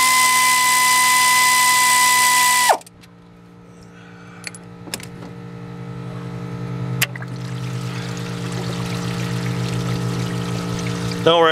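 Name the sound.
engine coolant draining into a drain pan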